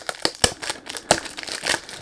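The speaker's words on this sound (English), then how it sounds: "Sorry about the noise when you do unboxing" Crinkling packaging handled during the unboxing of an Asten Adventure eau de parfum 100ml box, with several sharp crackling bursts and softer rustles close by, with no voices.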